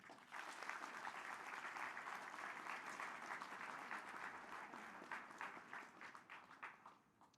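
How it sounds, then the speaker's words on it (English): A large audience at the Urban League opening plenary claps together for the sponsors: dense, steady applause fills the room for several seconds, then thins and breaks into scattered claps before fading at the end. "Let's do one clap for all the sponsors."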